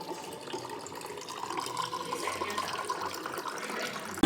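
A push-button hotel tap dispensing still or sparkling water runs in a steady, moderately loud hiss and gurgle of flowing water, swelling slightly toward the end.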